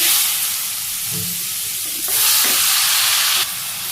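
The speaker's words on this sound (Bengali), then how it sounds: "তেলে জিরে দিয়ে দিলাম চাল কুমড়োগুলো দিয়ে দিই" Ash gourd pieces tipped into hot oil with cumin seeds, frying with a steady bright sizzle and hiss that surges briefly partway through, with faint clatter underneath.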